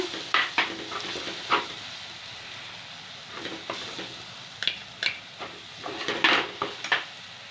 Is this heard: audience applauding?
no